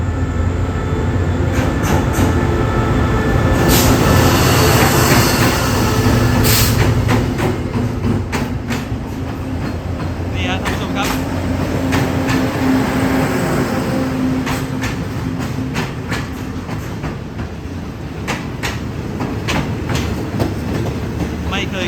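A Thai SRT southern line express sleeper train passes at night, a loud continuous rumble with rhythmic clickety-clack of wheels on rail joints and squealing metal, sustained close by throughout.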